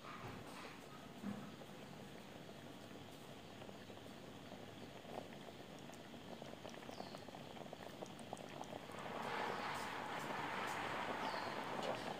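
Chicken rendang simmering in a pot, a steady low bubbling that stays even and continuous, swelling a little louder near the end as the thick curry cooks down.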